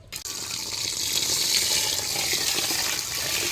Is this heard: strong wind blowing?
no